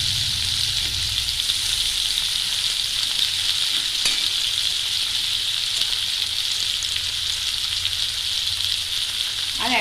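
Grated coconut frying in a hot pan, giving a steady, loud hiss and sizzle throughout with a faint stirring scrape now and then.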